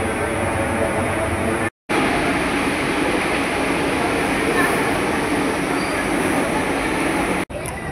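Pune metro train moving through an underground station, a steady loud rumble and rail roar running almost continuously with two brief cuts, no clear talk over it.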